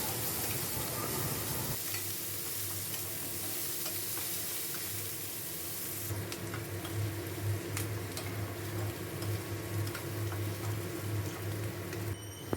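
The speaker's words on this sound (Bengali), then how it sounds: "তেলটা গরম হয়ে গেছে আর আমি এখানে নিয়ে নিয়েছি পেঁয়াজ কুচি" Chopped onion frying in hot oil for stuffed tomatoes: a soft, continuous sizzle that shifts slightly as the pieces are stirred, with faint clicks and no talking.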